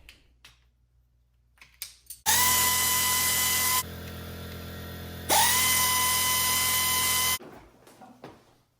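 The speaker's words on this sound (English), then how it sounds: "Air ratchet in use for the first time." An air ratchet powered by a Mcgraw 21 gallon air compressor runs in two loud, close bursts of high-pitched whirring, each a couple of seconds long, separated by a brief quieter hiss, with faint clicks before and after.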